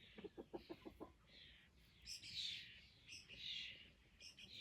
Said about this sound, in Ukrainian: Це курчатка фрізлі.